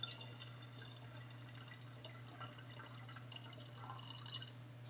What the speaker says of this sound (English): I'll pour out just a touch in here.